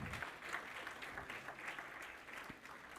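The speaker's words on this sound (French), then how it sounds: "On peut-tu applaudir à ça?" Steady applause from a church congregation during a sermon, many hands clapping continuously throughout, fairly close and even in loudness.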